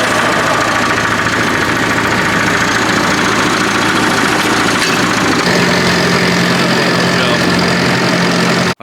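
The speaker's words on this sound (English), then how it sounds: "It's nice to see this old tractor up and running again." An old tractor engine, freshly fitted with a new lift pump, idles loudly and steadily at close range, a dense mechanical rumble with a faint knock, throughout the whole stretch.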